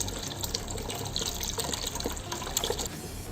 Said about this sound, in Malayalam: ശേഷം നമുക്ക് ഇതിലേക്ക് പാൽ ഒഴിച്ചു കൊടുക്കാം.